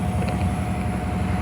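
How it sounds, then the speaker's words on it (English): Union Pacific locomotive UP 8860 idling with a steady, low diesel rumble and a constant hum, close and even throughout with no talk. "engines of the locomotive idling like that"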